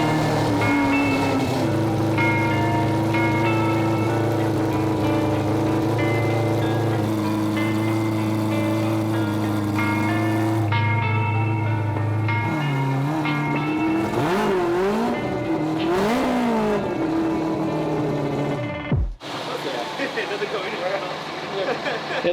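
An all-wheel-drive car's four-rotor rotary engine roars and revs loudly and continuously during power passes, pitch rising and falling through repeated surges, with a brief sharp drop near the end.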